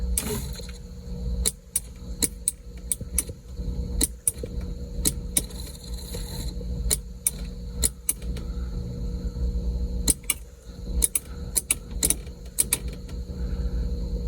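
The sunroof motor of a 1984 Porsche 928S, suspected bad or dirty, whirs faintly under a low cabin hum, punctuated by scattered sharp clicks and creaks over about fourteen seconds.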